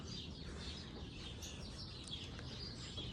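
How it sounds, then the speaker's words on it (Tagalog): Birds chirp and sing continuously outdoors in New York, their calls fairly faint over a steady ambient hiss. "masarap pakinggan yung ibon"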